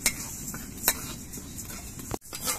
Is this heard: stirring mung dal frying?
yes